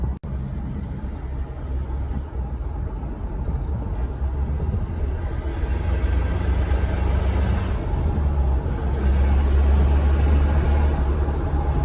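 Idling 1997 Mitsubishi Pajero 2.8 turbo diesel fitted with a straight pipe exhaust, a steady deep rumbling drone that stays close and loud throughout with no talking.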